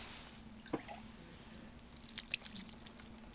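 Water drips quietly into the small rim of a clay bowl on a pottery wheel, with a couple of soft, distinct drips over a low, steady hum.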